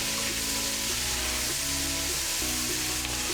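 Shrimp curry in sesame oil sizzles hard in a pan while it is stirred. There is a loud, constant frying hiss with soft scraping strokes from the stirring and no voices.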